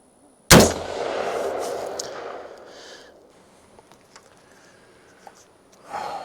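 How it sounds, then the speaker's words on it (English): A single sharp, loud report from an AR-style target rifle being sighted in at an outdoor range, followed by a long fading echo and faint clinks and handling sounds, with the start of another noise at the end. "I'm probably gonna take a few shots and move a few things around."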